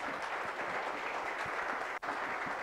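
Applause for a student project team at a competition prize distribution, a dense continuous wash of many hands clapping at a distance, fairly quiet, with a brief break near the end.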